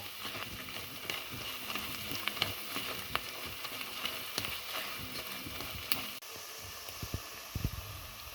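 Chili powder roasts in a hot pan with turmeric and tamarind for a Vishu sadya dish. The sizzling is soft and steady, with faint ticks and scrapes scattered through it.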